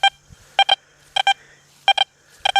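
XP Deus 2 metal detector with a Sharpshooter Bird Dog setup sweeping in ground, giving short paired electronic target beeps repeated about four times, clear and close with quiet gaps between.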